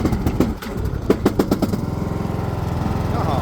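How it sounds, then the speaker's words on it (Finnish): A riding lawn mower engine cranks in several quick bursts, then catches and settles into a steady, close, loud running drone. "jos sitä kokeilisi lähteekö leikkuri käyntiin"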